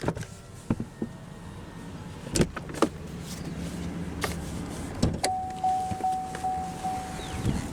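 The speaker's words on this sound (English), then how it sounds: "roll down the driver's window" A 2019 Cadillac CTS driver's power window motor whirs steadily as the glass rolls down, preceded by a few clicks and soft thumps nearby.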